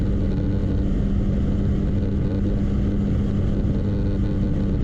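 A 2015 Can-Am Spyder RS S three-wheeler at full throttle gives a steady, loud, dense engine drone with wind rush, heard close and continuous with no talk.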